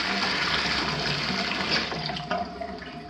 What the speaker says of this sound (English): if I turn the bathtub on and I come over here to the left lavatory, I don't have much flow